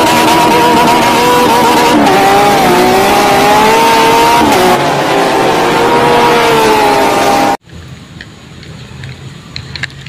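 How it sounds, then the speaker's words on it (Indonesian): A green toy race car makes a loud, steady motor whine with a wavering pitch, running continuously for several seconds before cutting off abruptly, leaving faint background noise. "mobil balap warna hijau."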